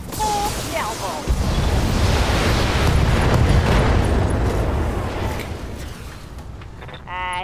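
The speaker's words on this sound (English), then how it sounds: "Firing a full salvo." A full weapons salvo fired by a mech in the Battletech video game, a sustained roaring wash of explosions and blasts rumbling loud for several seconds before fading, with brief electronic tones at the start and end.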